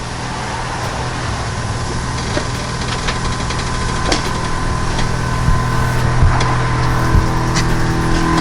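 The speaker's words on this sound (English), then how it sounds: "And that's compressor sound." An Air Lift air suspension compressor on a Nissan 350Z runs with a steady, droning mechanical hum and slight vibration, constant and fairly loud throughout.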